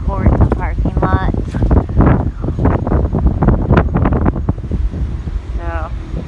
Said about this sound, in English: It's hot and windy